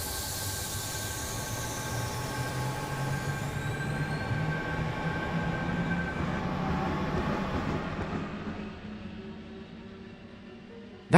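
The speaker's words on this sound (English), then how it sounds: "Let's watch our train depart" A Roblox train departing Victoria station, its steady rumbling run with a hiss and faint wheel whine that swells, then fades away as it pulls off.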